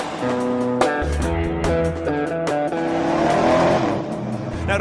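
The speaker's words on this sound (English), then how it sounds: "As we drive the 2013 Challenger SRT8337 Hemi, the big boy," A 2013 Dodge Challenger SRT8 with its big Hemi V8 drives hard, the engine loud and close, rising and falling through gear shifts with throttle blips over a continuous rumble.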